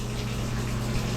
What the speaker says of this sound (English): check the water pressure